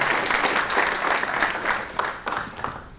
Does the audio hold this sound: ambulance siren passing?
no